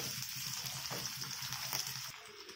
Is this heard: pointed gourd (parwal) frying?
yes